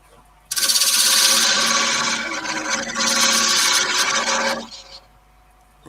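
A spindle gouge rounding off the corners of a wooden workpiece spinning on a lathe, a loud, continuous close rasping cut that eases briefly midway, then stops abruptly.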